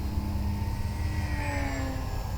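An Eflite V900 RC jet plane flies at full throttle, a faint, distant high whine drifting slightly in pitch over steady outdoor background noise.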